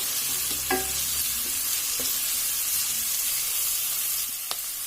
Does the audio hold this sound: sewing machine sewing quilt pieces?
no